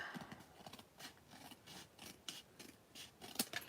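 Scissors trimming paper during a paper craft session, with a quick series of soft, close snips and rasps in a quiet room.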